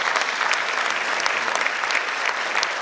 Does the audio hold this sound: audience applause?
yes